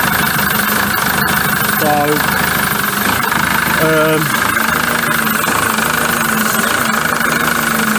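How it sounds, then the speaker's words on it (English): A Peugeot Boxer van engine surges at idle with a loud, steady drone that rises and falls unevenly, close up, and someone speaks briefly over it. "obviously you can hear that. It's definitely surging. It's not running right."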